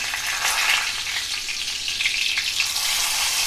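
Spices, including bay leaf, crackle and sizzle steadily in hot oil in an iron wok for tempering, a dense hiss that carries on without pause. No one speaks.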